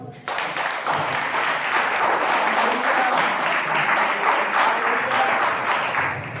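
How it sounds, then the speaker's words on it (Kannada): Church congregation breaking into applause after a brief quiet start, a thick, sustained round of clapping that holds steady for several seconds with faint voices mixed underneath. "ಚಪ್ಪಾಳೆ ತೋರಿಸಿ."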